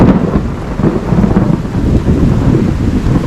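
Heavy rain pours steadily and thunder rumbles low and loud throughout, during a Cuban hurricane-season storm at a beach resort in Santa Maria.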